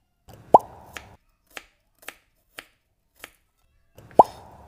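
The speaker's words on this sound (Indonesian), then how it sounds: "Di sini bumbunya aku iris aja ya teman-teman." A knife cuts through shallots on a cutting board for a spice paste, giving a handful of crisp, spaced taps and thuds at an unhurried pace, with two heavier knocks at the start and end.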